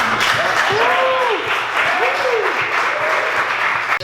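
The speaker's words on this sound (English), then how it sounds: "Round of applause for you" Audience applause at a Latino Dad event in Los Angeles, steady clapping from a crowd with a couple of voices rising and falling over it, cutting off abruptly at the end.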